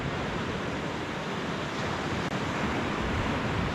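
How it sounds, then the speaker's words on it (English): Sea surf washing onto a beach on the Holderness coast makes a constant, even rush of breaking water mixed with wind. "Listening to the sea."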